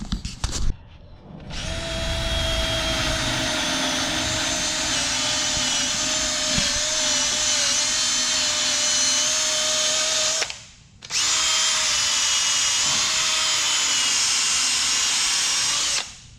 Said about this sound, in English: let me get a wire wheel here and we'll clean this off.